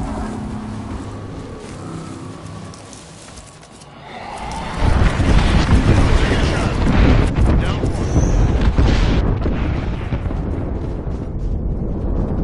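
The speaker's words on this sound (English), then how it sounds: "Signaling an airstrike." Airstrike explosions in a PS4 war game, a sudden heavy blast followed by sustained rumbling booms and debris roar filling the scene, loud and continuous, with a voice talking over it.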